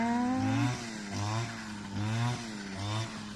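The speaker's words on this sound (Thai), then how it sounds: "ขออภัยในความเสียงดังของเครื่องตัดหญ้านะคะ" A loud grass cutter engine drones nearby on a deer farm, its pitch rising and falling in repeated surges as it works through grass, with no talking.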